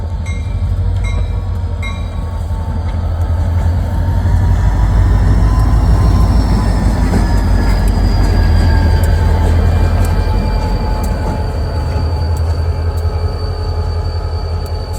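A freight train of three covered hoppers and a boxcar rolls past on a snowy NYSW branch line near Utica, New York, with a loud, steady rumble, rattling wheels and faint squeals throughout.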